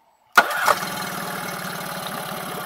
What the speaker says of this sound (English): I'm able to start the motor and it's idling at 850 RPM.